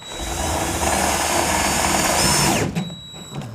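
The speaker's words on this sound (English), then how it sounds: "go ahead and put the first screw in. Install the rest of those screws." A power drill drives a screw into the rib of a metal roof while mounting solar panels, whining loudly and steadily for over two seconds before stopping abruptly, followed by a brief clatter.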